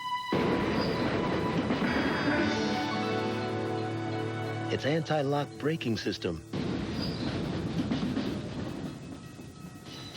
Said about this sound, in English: Someone very special is on that train.